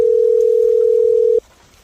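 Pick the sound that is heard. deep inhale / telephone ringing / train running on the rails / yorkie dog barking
telephone ringing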